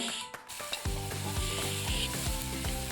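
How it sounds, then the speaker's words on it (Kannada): Onion and tomato fry in a pan for Uttar Karnataka style kaju paneer, giving a steady, loud sizzle with stirring scrapes of a utensil across the pan. "ಅದಾದ ತಕ್ಷಣ ಅದರಲ್ಲಿ ನಾವು ಟೊಮೆಟೊ ಹಾಕಬೇಕು. ಟೊಮೆಟೊನೂ ಕೂಡ ಚೆನ್ನಾಗಿ ಬೇಯಬೇಕು."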